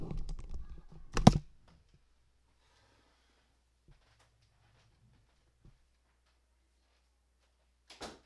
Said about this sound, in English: Let me go close the door.